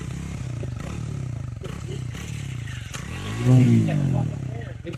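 A Triumph Speed T4 400 motorcycle idles with a steady low engine and exhaust throb and a faint rev swell near the end, heard under someone talking.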